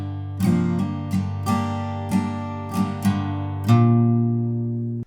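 An acoustic guitar plays the Wayfaring Stranger intro from The Last of Us Part II, a sequence of about eight plucked and strummed notes and chords ringing out clearly at a slow pace, with the last chord left to sustain.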